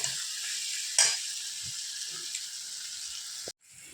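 Onion, ginger-garlic paste and meat masala frying in a pan, a steady close sizzle with a burst when stirred, brief clinks, then an abrupt cut near the end.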